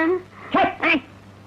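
A dog gives two short, sharp barks close by, amid a tense street argument.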